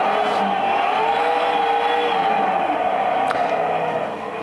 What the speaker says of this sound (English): A handbrake is a safe way to lose some speed and go sideways